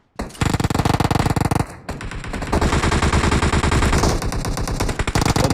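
Loud, close AKM rifle fire in the PUBG video game, long rapid automatic bursts of shots with a brief pause between them.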